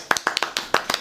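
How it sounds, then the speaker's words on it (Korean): About six sharp hand claps in a quick, slightly uneven burst, close and dry, welcoming a guest at the opening of a Korean interview show. "박수."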